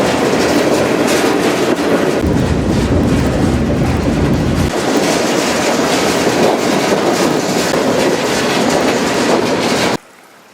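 A freight train rolls along at steady speed on the Dallas to Tulsa route, its wagons producing a loud continuous rumble with rhythmic clickety-clack from the wheels, heard from close on board until it cuts off abruptly near the end.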